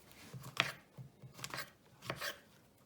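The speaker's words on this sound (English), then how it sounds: "I'm going to cut my" A knife slicing a mushroom into little pieces on a board in a home kitchen, giving three separate crisp cutting strokes spaced about a second apart, quiet and close with no talking.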